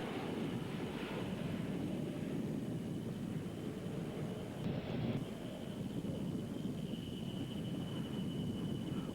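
A C-130 transport aircraft flies past at the Australian International Airshow, giving a steady, broad engine roar that holds at an even level throughout, mixed with wind buffeting on the microphone.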